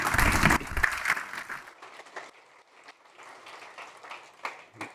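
An audience at a corporate event breaks into applause, a dense burst of clapping that quickly thins to scattered, fading claps.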